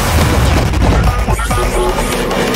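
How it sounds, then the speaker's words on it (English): A loud, rumbling explosion erupts in a game over layered background music, with a heavy low-end boom and crashing debris that hold dense and close across the whole short span. "An explosion."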